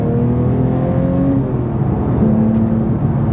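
A Porsche GT3 Touring with a manual gearbox heard from inside while driving: a steady, loud engine drone with shifting pitch as revs change, and continuous road noise beneath.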